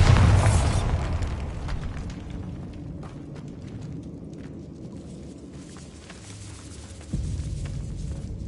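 Bombarda blasting spell going off in the Hogwarts Legacy video game inside a decayed catacomb, a sharp burst at the start that falls away into a low rumbling tail, then a second thud near the end.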